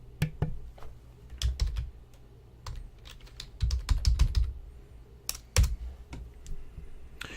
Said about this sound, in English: So if you just type in ipconfig and hit enter, you get the basic information.